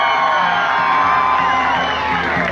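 A large outdoor crowd at a concert evening in Arconate shouts, whoops and cheers in one loud, sustained roar that fills the whole stretch.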